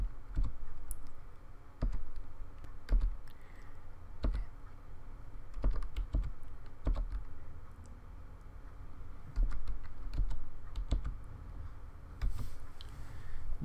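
Password typed on a computer keyboard, a quick run of close, crisp key clicks in irregular bursts with brief pauses, fairly quiet and without voices.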